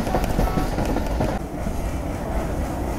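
A Pakistan Railway train standing at or rolling past a station on the route from Panja Sahib, heard as a loud close rumble with rattling carriages and a dense wash of noise that eases slightly partway through.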